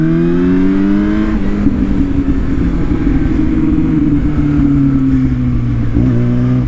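A Yamaha R6 sportbike engine revs hard while riding, a loud droning whine rising and falling through gear changes, with wind noise underneath.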